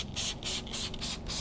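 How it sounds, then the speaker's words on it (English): Five quick bursts of a spray bottle spraying non-acid wheel cleaner onto a tire, each a short hissing spritz with brief gaps between, close and fairly clear. "I want to just spray this again onto the tire."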